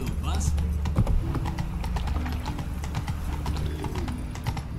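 Horse hooves clip-clop at a steady riding rhythm in The Witcher 3, under someone speaking, with a brief neigh near the start.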